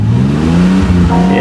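A car engine revved up toward 3,000 RPM, a loud close roar whose pitch rises smoothly through a short burst.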